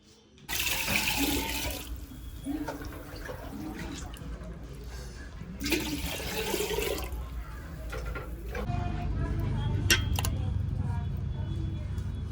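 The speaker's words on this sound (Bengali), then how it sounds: "চালটা ভালোভাবে ধুয়ে নিচ্ছে" Water runs steadily from a tap while rice is rinsed in a home kitchen, with splashing and a rushing flow that swells and changes, and a voice talks briefly over it.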